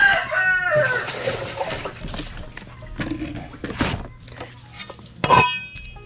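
Chickens cluck and a rooster crows nearby while the flock is fed papaya outdoors, with scattered calls and a sharp crow near the end over faint background sounds.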